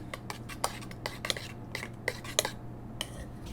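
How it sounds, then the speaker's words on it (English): A utensil stirs béarnaise sauce in a pan, making soft, quiet scrapes and light metallic clinks in an irregular rhythm close by, with no talking. "Give it a quick stir here."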